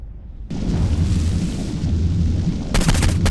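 Flaming bullets fired in the Saints Row IV video game: sustained loud, dense gunfire with a heavy low rumble, followed near the end by a burst of sharp crackling shots.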